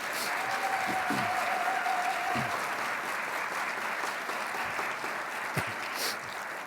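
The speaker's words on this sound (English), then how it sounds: "how about a nice round of applause for all of our students this evening?" Steady round of applause from a seated audience at an evening student awards ceremony, a dense continuous patter of clapping at constant loudness throughout with no speech over it.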